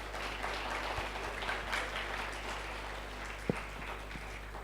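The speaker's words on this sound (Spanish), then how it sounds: "¿Cuántos le pueden dar un aplauso al Señor?" Moderate congregation applause at a church conference service, a steady patter of clapping with a low electrical hum beneath and a few sharper claps standing out.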